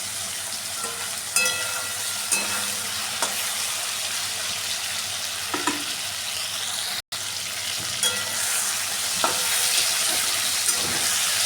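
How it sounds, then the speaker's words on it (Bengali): Steady sizzling of ridge gourd and potato frying in a pan, with occasional scrapes and clinks of stirring; no voices. "ঝিঙে আর আলুটাকে ভালো করে ভেজে নেব"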